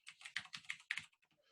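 Rapid typing on a computer keyboard, a quick run of close key clicks that thins out to a few scattered taps at the end, with no voices.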